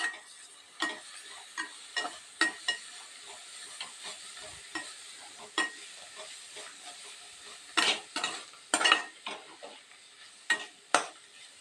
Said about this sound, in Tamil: நம்ம நல்லா ஃப்ரை பண்ணிடலாம்.